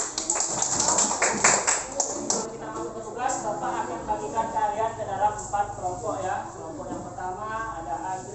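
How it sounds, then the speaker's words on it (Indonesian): A classroom group of students clapping their hands together in a burst of quick, overlapping claps near the start, then fading into room noise with a teacher's voice talking. "Adi silahkan tepuk tangan."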